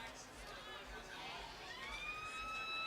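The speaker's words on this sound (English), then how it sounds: "3-quarter siren" Three-quarter-time siren at the 2023 Gippsland Football League reserves grand final, a faint wailing tone that rises and falls over a steady crowd murmur and nearby talk.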